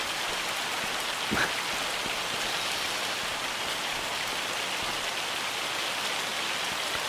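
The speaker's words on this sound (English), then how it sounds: "the rain just started this morning" Steady rain pattering on surfaces in Farming Simulator 25's Monteriggioni map in Italy, a constant even hiss with one brief low thump, and no talking.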